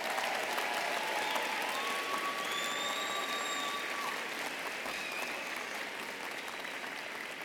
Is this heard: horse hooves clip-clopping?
no